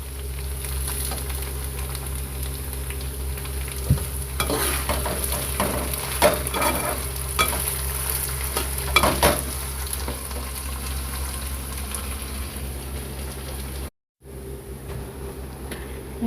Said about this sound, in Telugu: చిన్న సిమ్లో పెట్టి ఫ్రై చేసుకోవాలన్నమాట